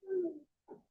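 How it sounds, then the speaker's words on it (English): A bird, dove-like, gives two soft low coos, the first longer and the second short, faint and alone against silence. "Birds."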